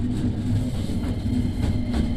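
Train arriving at Awaji station in Osaka, a steady low rumble of wheels and motors with a faint tonal hum, moderately loud and continuous, with no speech.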